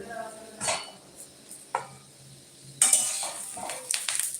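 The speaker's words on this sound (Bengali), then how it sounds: "ফাইনালি সব পিসগুলো আমি তুলে নিয়েছি থালার মধ্যে" Pieces of fish roe lifted onto a plate in a home kitchen, giving a few sharp clinks and scrapes of a utensil against metal dishware, with quiet gaps between them and a sizzle in the background.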